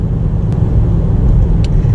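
BMW M8 Gran Coupe Competition with its eight-speed automatic, heard as a steady low engine rumble from inside the cabin, continuous and moderately loud with faint brief clicks.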